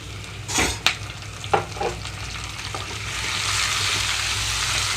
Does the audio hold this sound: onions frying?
yes